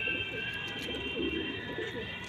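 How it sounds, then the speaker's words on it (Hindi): Devbandi pigeons coo in low, rolling murmurs close by, with a steady high whine running beneath them. "ये देखिए, बहुत ही हाई क्वालिटी के कबूतर हैं।"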